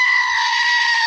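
A goat gives one loud, drawn-out bleat, close and harsh, holding steady for the whole moment with no voices over it.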